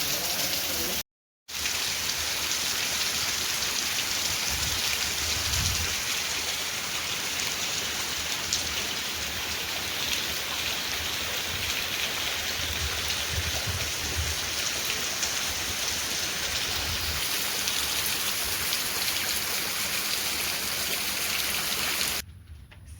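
Heavy rain pours steadily for a long stretch, a dense close hiss of drops hitting surfaces with a few louder splashes, broken by one brief cut early on.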